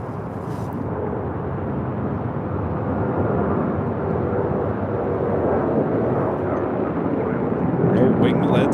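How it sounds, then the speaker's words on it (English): An airliner taking off from runway 25 right at LAX, a continuous loud roar of jet engines holding steady and swelling slightly, with voices talking over it now and then. "25 right, clear for takeoff."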